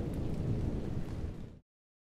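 Rain pours steadily with deep rumbling thunder throughout as a storm approaches in an animated weather scene, loud and close, then cut off abruptly near the end; no voices.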